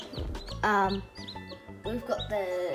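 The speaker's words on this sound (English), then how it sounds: "We got 7 little chicks. Looks to be gold Wyandottes and silver Wyandottes" Newly hatched gold and silver Wyandotte chicks in a brooder, several high, thin, insistent cheeps overlapping close by in quick bursts, with low background noise between calls.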